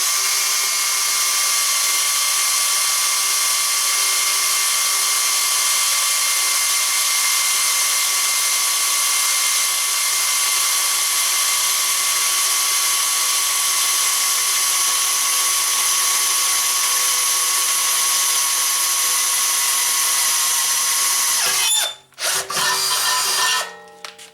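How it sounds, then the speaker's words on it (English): A Bosch DDB181 compact 18V cordless drill whines steadily as it bores dry through metal with a 3/8 bit, a sustained high pitched grind that stops abruptly near the end with a few clunks. "I'm drilling through this dry. I'm not using any cutting fluid"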